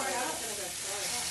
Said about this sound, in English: Now I'm cooking an onion.